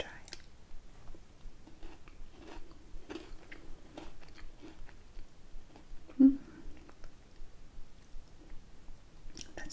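Crunchy Hershey's cookies-and-cream candy with large cookie or biscuit chunks being bitten and chewed close up, soft crunches and mouth sounds repeating at an uneven pace, with one sharper bite standing out.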